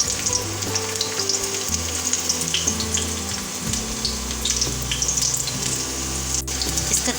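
Garlic fries in about three tablespoons of oil on a hot tawa, giving a steady, close sizzle with continuous bubbling crackle and occasional stirring clinks, no voices.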